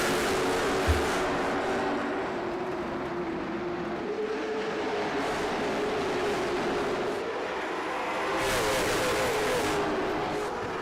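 Stock cars at North Wilkesboro surge away at the green flag start of the Rudolph 250, a dense, continuous engine roar that swells and fades as the field passes.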